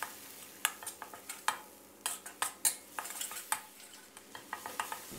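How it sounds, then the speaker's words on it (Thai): Shrimp sauce with chili paste and paprika being stir-fried over low heat, a spatula scraping and clacking against the pan in quick irregular strokes over a soft sizzle, close and clear with no voices. "แล้วก็ผัดให้เข้ากันเล็กน้อยนะครับเพื่อเราใช้ไฟอ่อนในการผัดน้ำซอส"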